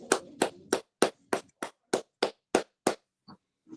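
Slow, deliberate hand claps on a college football podcast, about ten sharp, evenly spaced claps close to the microphone with silence between them, then a brief faint sound after.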